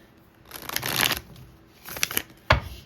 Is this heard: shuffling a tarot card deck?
yes